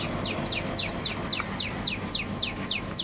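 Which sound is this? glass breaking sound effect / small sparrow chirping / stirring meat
small sparrow chirping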